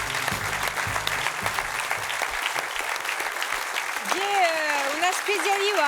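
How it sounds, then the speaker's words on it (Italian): Audience applauding a girls' choir at a music creation centre concert, steady dense clapping throughout, with a sung or hummed voice rising near the end over the applause. "Allez, on peut les applaudir."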